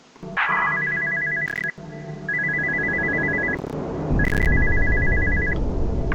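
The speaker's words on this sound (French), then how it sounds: "Ah, tiens, encore le téléphone." A telephone ringing in the horror game Spooky's House of Jump Scares, an electronic trill repeating in three long bursts over a dark, rumbling ambience that swells toward the end.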